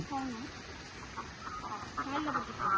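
Chickens clucking in brief, low murmuring calls, fairly close, against a soft outdoor background.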